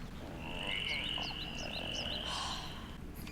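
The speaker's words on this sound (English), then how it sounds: "every time you hear a badger frog croak" A badger frog from Avatar: The Last Airbender croaks in a run of rising chirping calls, fairly clear over a low steady background hum.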